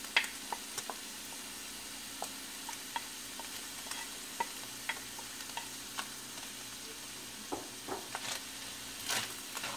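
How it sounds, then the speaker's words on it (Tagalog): Mixed vegetables sizzle steadily in a frying pan while lumpia shanghai filling is being cooked, with scattered ticks and clinks from stirring over a constant hiss; no talking. "Ayan, yung mixed vegetables natin, ilagay na natin dito sa ating kawali."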